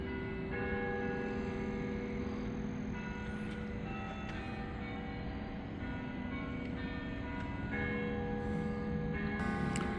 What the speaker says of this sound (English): there's plenty of church bells from down the street